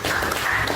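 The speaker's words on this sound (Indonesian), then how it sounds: "berikan tepuk tangan" A classroom of students claps together, a short dense burst of applause from many hands lasting under a second.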